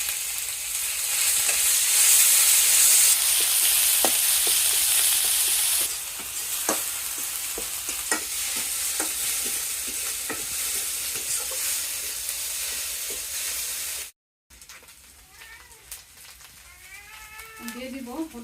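Bay leaves and cumin frying in oil for a fish curry, a bright continuous sizzle with scattered crackles that quiets near the end, followed by a cat meowing nearby.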